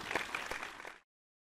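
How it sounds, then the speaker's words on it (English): Theatre audience at the Globe clapping, a brief burst of dense applause that stops abruptly after about a second. "The audience shouted, clapped,"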